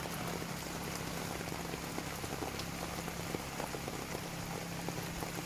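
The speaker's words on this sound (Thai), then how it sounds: "ฝนตก ฝนตกฝนตก" Steady rain falls on surfaces in a rainy season setting, a dense continuous patter with scattered individual drops that stays even throughout, with no talking.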